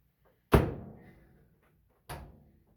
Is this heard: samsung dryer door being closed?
yes